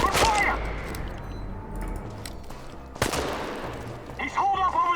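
Enemy soldiers in Chernobylite open fire in a burst of gunshots, a sharp crack near the start and another around three seconds, amid game ambience with a voice shouting between shots.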